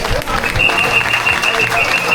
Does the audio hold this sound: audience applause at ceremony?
yes